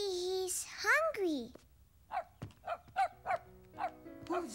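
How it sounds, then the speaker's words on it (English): A small puppy in a cartoon kitchen gives a series of short, high yips and barks in a steady rhythm, following a child's sliding, sing-song vocal sounds at the start. "He's barking"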